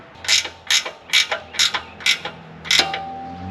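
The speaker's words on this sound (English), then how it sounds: "Now we just want to tighten these bolts up." Gear wrench ratcheting while tightening bolts on a Split-Fire 1165V vertical log splitter: six crisp, evenly spaced clicking bursts close by, with a faint steady engine hum underneath.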